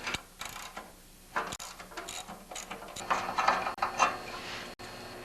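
Ratchet wrench loosening a 1/2-inch nut beneath the chute control arm of a Toro snowblower, giving bursts of quick clicking ratchet strokes at close range in a quiet workshop setting, with no talk.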